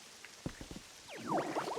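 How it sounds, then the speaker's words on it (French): Rain falls in the video game Pokopia, a quiet patter of drops that thickens toward the end, faint and close with a few soft taps before it. "Et là, il pleut en plus."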